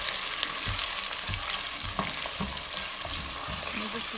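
Small chopped onions fry in a pan for chicken and rice, giving a steady close sizzle broken by several scraping stirs of the spoon, with no voices.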